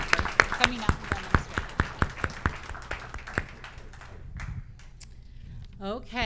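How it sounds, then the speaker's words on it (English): An audience at an integrative oncology talk claps in a steady rhythmic round of applause that thins out and fades, followed by brief rustling and a voice starting to speak. "let's go ahead and give him just another round of applause"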